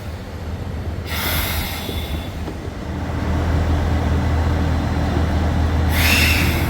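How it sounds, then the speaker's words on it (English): A train at Nakasendo station in Japan, heard as a continuous low rumble of rail running that grows louder partway through, with two breathy hissing bursts of air release; no talking. "This is Nakasendo station."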